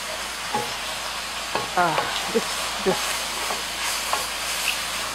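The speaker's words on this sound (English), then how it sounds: "we'll just let this brown for a little bit on each side" Marinated beef browns in a hot pan with its juices, giving a steady soft sizzle and hiss broken by a few short scraping stirs. No one speaks.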